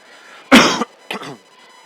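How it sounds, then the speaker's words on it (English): Two close coughs, a sharp loud one followed by a smaller second cough, in an otherwise quiet setting. "Sorry about that. Coughing in your ear."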